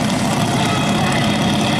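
A drag racing engine rumbles steadily at the start line of a hill race event in Rivanazzano, loud and continuous with a dense low roar and broad noise, no talk over it.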